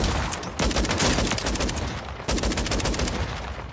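The KV Broadside shotgun in a video game fires in rapid succession, loud, close, booming blasts landing in quick clusters with a brief pause midway.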